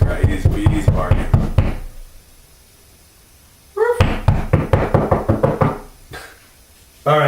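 Loud, close knuckle knocks on a wall in quick rhythmic runs, two bursts split by a silent gap and a brief voice, with another burst starting at the end.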